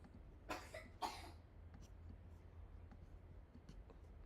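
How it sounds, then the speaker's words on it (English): Two quick, breathy coughs close by, followed by quiet background hiss and a few faint scratchy sounds. "coughing everywhere, man."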